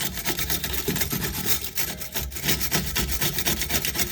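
A steel brush scrubs a BMW E36 car part, producing loud, close, continuous harsh scraping in quick uneven strokes throughout, with no talking.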